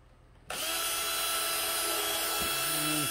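A power drill starts abruptly and whines steadily as a screw is driven into a wooden pumpkin tea light holder, with a brief dip in pitch as the screw bites near the end.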